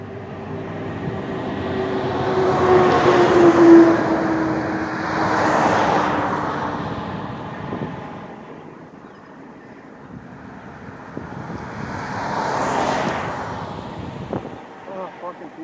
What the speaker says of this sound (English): I've had about 100 cars go by.